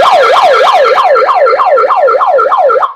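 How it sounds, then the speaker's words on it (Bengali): A loud electronic siren from a 619UB mini hand megaphone wails up and down rapidly, close and alone, cycling about three times a second without pause. "আপনারা ইমার্জেন্সি সময় এটা দিয়ে সাইরেন দিতে পারবেন।"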